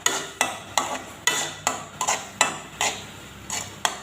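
Spoon scraping and knocking against a pan while spices, chilli powder, turmeric and salt are stirred into chickpea paste filling for stuffed kakrol, about a dozen sharp, rhythmic strokes close by with a faint sizzle beneath.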